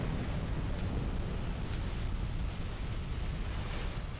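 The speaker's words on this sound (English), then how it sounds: "Fucking super huge range fire breath mode." Roaring fire breath from a dragon in Dark Souls 2, a steady, loud, broad whoosh that rumbles without a break for several seconds, with no voices over it.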